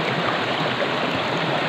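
Water pours steadily at a waterfall, a dense, even rushing roar that holds constant throughout with no voices.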